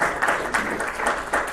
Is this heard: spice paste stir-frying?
no